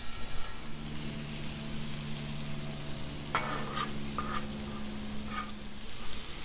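Pork chops sizzle steadily on a Blackstone griddle, a constant close frying hiss with a low hum beneath and a few brief sharper crackles and scrapes, no voices.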